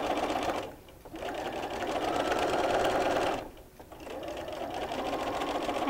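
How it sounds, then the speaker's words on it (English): A sewing machine stitches flannel pieces for a baby burp cloth in steady motor-driven runs, pausing twice briefly before resuming, close and fairly loud with no talking. "This way it'll make it easier for me to stitch around that piece."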